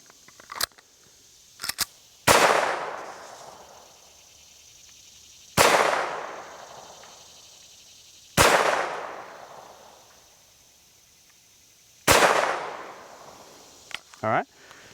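Four separate pistol shots from a SAR B6 firing 115 grain Federal ball ammunition at a range, each a sharp, loud crack with a ringing decay, spaced a few seconds apart, with small clicks and handling noises in between.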